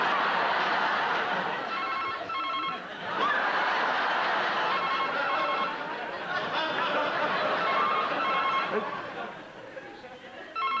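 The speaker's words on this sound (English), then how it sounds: "That must be my phone." A telephone rings repeatedly in bursts of trilling tones, partly masked by a busy room of chatter and laughter.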